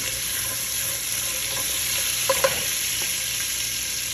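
Cold leftover basmati rice frying in a little oil in a pan, a steady hiss and sizzle with a few soft scraping stirs and light clinks, close and constant, with no voices.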